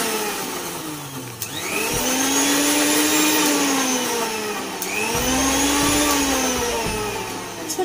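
A mixer grinder blending aloe vera whirs loudly in two bursts, its motor pitch rising as each run spins up and settling into a steady, buzzing grind.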